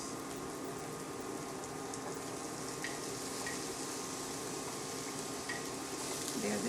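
Red onions sautéing in a pan for sajji shrimp, a steady close sizzle with faint stirring and occasional light clinks, continuous with no talking.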